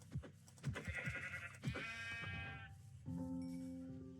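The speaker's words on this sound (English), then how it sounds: "Oh, there's a sheep." Sheep bleating in the video game Minecraft, a few wavering bleats close by, one after another, after some short tapping sounds, with no talk over them.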